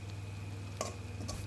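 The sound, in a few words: onions and green chilies frying in a pan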